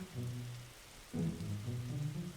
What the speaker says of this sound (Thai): ฝนตกนี่ บรรยากาศดีมากอะ